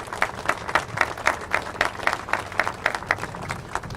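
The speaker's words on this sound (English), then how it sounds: "please give yourselves a big, big round of applause" A groundbreaking ceremony audience applauds in a lively, uneven patter of many hands, with distinct claps rising and falling over a steady crowd texture.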